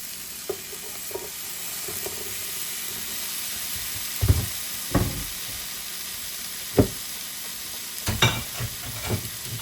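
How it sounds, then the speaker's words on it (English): Vegetables charring and sizzling in a hot pan for bean and cheese burritos, a steady low frying hiss with a few louder crackles and pops from stirring scattered throughout. "And I just want to char these vegetables."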